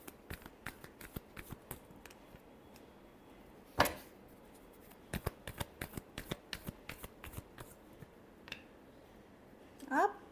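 Tarot cards being shuffled close by, a run of quick papery riffles and snaps, with a sharper burst near the middle and another near the end, over quiet room noise.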